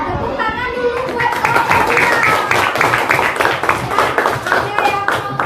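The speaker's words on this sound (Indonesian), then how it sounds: "Tepuk tangan dulu buat" A classroom of pupils claps together in a brisk, steady burst of applause that lasts several seconds, with children's voices mixed in over the clapping.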